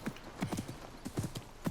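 Horse hooves clip-clop in Assassin's Creed Mirage, a steady trotting rhythm of close, distinct hoof strikes with no talk over them.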